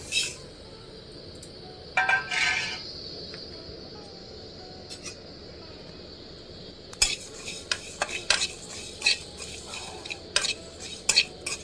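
Whole coriander, mustard, cumin, dried chillies, fennel, nigella, fenugreek and carom seeds are dry-roasted in a dry pan for pickle. A spoon scrapes and clinks in bursts over a low sizzle, busier toward the end.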